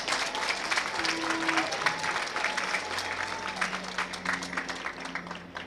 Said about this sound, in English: I wish we could applaud our Chancellor.